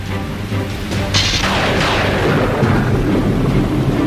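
Thunderstorm with a loud rolling thunder rumble that swells and fades over steady rain noise, dense and close, with no talking.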